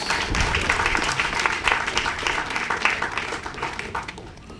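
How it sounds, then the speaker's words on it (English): Sustained applause from an audience for soldiers at a military passing out parade, a steady dense clapping wash that runs the whole stretch and tapers slightly at the end. "Let us give them another round of applause."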